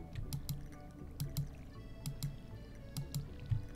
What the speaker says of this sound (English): I'm super slap happy with my watering can